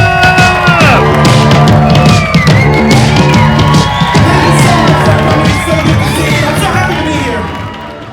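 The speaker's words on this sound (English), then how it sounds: "let's get applause going. Everyone in the room, bring it up!" An audience at a stand-up comedy special cheers, whoops and claps loudly in a dense sustained roar. Voices shout over the noise before it begins to fade near the end.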